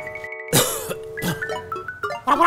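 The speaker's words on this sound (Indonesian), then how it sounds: "Pura-pura batuk!" A man fakes a cough to get attention, a couple of short throat-clearing coughing bursts close to the mic amid a noisy indoor scene with other sounds around.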